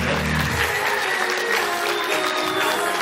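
Clapping from an audience at a vocational tourism school's anniversary event, a steady dense patter under a faint background voice and some musical tones, moderately loud.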